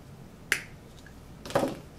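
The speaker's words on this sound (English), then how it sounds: "I'm going to trim off just that little bit of extra." Scissors snip off a small excess strip of washi tape during a clothespin magnet craft, giving two sharp, close cuts about a second apart in a quiet room.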